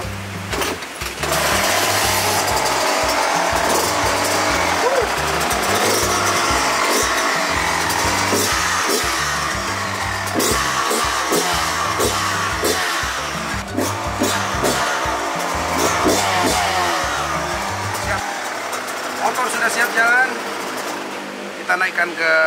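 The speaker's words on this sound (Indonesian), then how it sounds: "dengerin dulu bunyi motornya biar nanti dia bisa ngegas kencang ya" A new motorcycle engine idles with a fast rhythmic chug and revs repeatedly, loud and close, before cutting off near the end.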